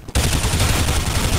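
A loud, abrupt burst of gunfire in Counter-Strike: Global Offensive that erupts suddenly and sustains as a dense rattling roar.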